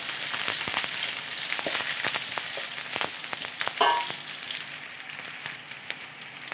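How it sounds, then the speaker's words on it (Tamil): Onions sautéing in a pan for a spicy bitter bean gravy, with a continuous close sizzle broken by crisp pops and crackles of spattering oil. "வெங்காயம் நல்லா வதங்க வரணும்."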